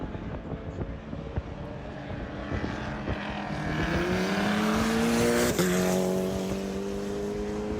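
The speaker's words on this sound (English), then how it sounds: "In GT2A, it is the number 60, the Ginetta of Adolfo Rossi out front" Race cars run laps at Homestead-Miami Speedway during an endurance race, engines droning steadily and rising in pitch as a car nears and sweeps past loudly, with other engines mixed in behind.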